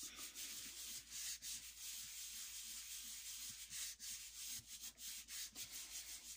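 A piece of card rubbed by hand over a gel printing plate, a steady soft scratchy friction with brief strokes and pauses, close and fairly quiet with no talk.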